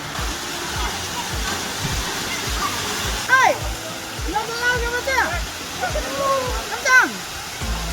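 A waterfall at a Rarotonga resort rushes steadily in the background as people talk and call out nearby. Birds chirp in short bursts, and there are rhythmic low thumps.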